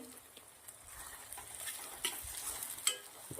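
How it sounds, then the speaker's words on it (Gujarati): Chopped tomatoes hit a pan of sautéed onions for sev bhaji, giving a faint, soft sizzle with light scraping and stirring clicks, quiet and close. "ડુંગળી સંતરાઈ ગયા પછી આપણે ટામેટા સમારેલા ઝીણા નાખી દેવાના છે."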